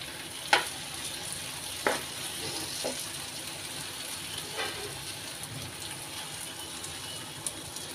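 An onion and tomato masala sizzles softly in a pan after a little water is added, a steady low hiss broken by a few sharp pops, with no talking.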